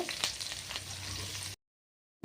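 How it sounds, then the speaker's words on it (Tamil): Onions sizzle steadily in a hot pan for a moment, then the sound cuts out. "அப்புறம் பெரிய வெங்காயத்தை நறுக்கி பொடியை நறுக்கி வச்சு அதில் போடுங்க."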